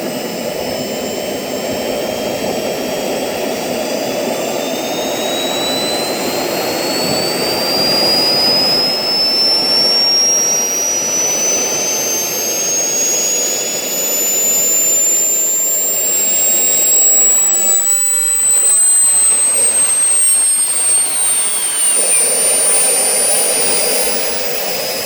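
A Swiwin SW60 model jet turbine engine spools up and runs with a loud, steady roar and rising high-pitched whine, its tone climbing through the fuel ramp and holding close and continuous.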